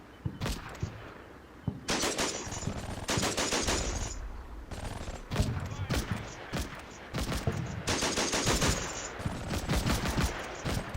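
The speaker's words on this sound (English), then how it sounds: "Is it firing the weapon again?" A half-track fires its machine gun in the WWII strategy game Combat Mission, set in Normandy: long rattling bursts of automatic fire separated by short pauses, loud and close, with other gunfire mixed in.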